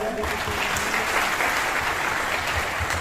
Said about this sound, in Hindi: तो इनके लिए भी जोरदार तालियां